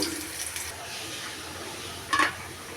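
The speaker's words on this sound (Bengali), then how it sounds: "রসুন পেঁয়াজ দিলাম লাল আছে লাল করে ভেজে নিব" Garlic and onion fry in hot oil, giving a steady low sizzle with occasional stirring scrapes and a brief louder clatter near the end, heard up close and without voices.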